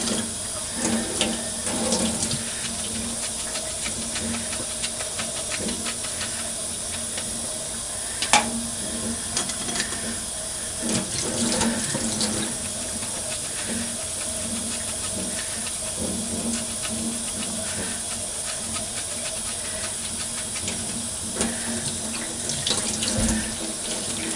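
Steady running tap water pours into a sink as makeup brushes are rinsed, a constant close hiss with occasional splashes and brief clinks, and no voices.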